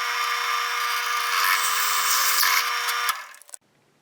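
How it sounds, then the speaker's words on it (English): A power drill bores a 5/16 inch hole through a wooden bandsaw sled, giving a loud, steady high whine for about three seconds before it breaks through and winds down to quiet. "I'm just going to drive a 5/16 hole through this"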